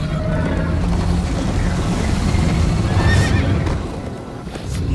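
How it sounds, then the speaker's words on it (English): A horse in the video game Minecraft Story Mode neighs loudly midway over the continuous pounding clip-clop of galloping hooves and rushing background noise. "First time on a horse here."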